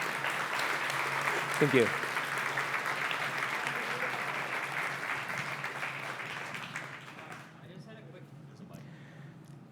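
An audience claps for Guillermo at the close of a talk on building crypto apps with v0 at a tech conference, a steady applause of many hands that fades toward the end, with a brief spoken thank-you partway through.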